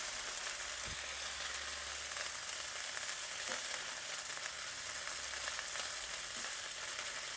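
Fresh moringa (drumstick) leaves frying in a pan give a quiet, steady sizzle, with a few soft clicks of stirring and no talking.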